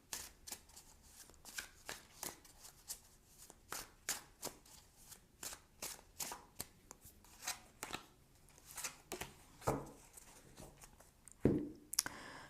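Tarot cards being shuffled by hand, a quiet run of crisp, rhythmic riffles and taps repeating at a steady pace close by, with a louder flurry near the end.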